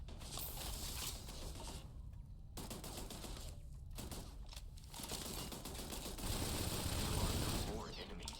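A shotgun firing in a robot-fighting video game, bursts of loud gunfire and mechanical clatter in rapid volleys with brief gaps, over game sound and a voice.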